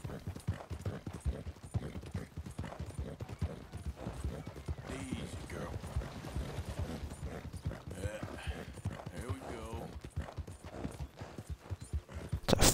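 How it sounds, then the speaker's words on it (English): Horse hooves clip-clop in quick, steady rhythm throughout a ride in the video game Red Dead Redemption 2, close and continuous, with a person talking over them. "It's a fast horse."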